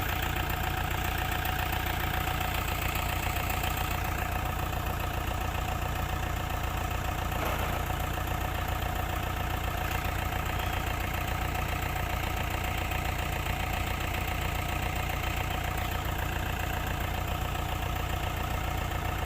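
A Kubota farm tractor's engine runs steadily at idle as it gets ready to tow, a constant loud low drone with a faint knocking texture and no change for the full length, with no voices.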